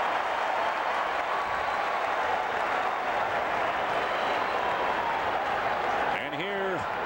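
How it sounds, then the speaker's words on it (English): A baseball crowd at Wrigley Field roars in a broad, steady wash of cheering and applause that fills the whole stretch, with a voice briefly rising over it near the end. "That's why they're cheering."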